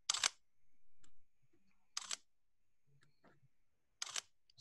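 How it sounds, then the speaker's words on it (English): Shutter of an original Sony A7 camera fires three times at steady two-second intervals, each a crisp, loud mechanical clack, with faint handling noises in between. "And now the original A7 has this shutter that sounds like a real camera."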